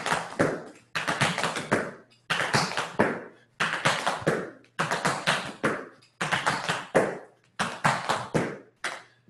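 Tap shoes strike a hard floor in crisp step, shuffle, pull-back and toe patterns, repeated in seven quick bursts separated by short pauses, close and clear with no talk.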